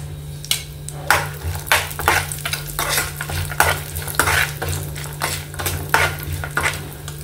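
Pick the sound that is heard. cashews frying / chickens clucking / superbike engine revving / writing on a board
cashews frying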